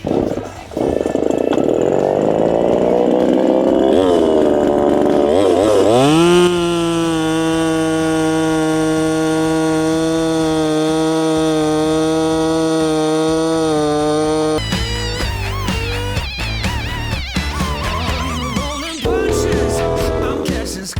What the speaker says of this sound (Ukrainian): Як бачите, на всю шину ріже і навіть не відчуває.